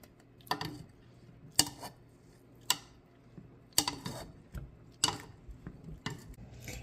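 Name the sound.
mashing cooked strawberries in a pot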